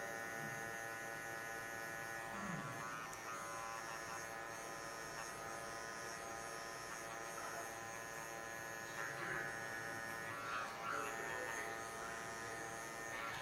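Electric hair clippers buzz steadily through a fade cut with the guard opened all the way, a close, continuous hum that barely shifts over its length, with no talk.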